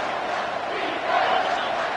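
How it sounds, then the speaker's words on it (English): Stadium crowd noise in an NCAA football video game, a steady, loud wash of many voices roaring together and swelling slightly partway through, with no break. "This crowd is trying to inspire this defense to make a big red zone stop."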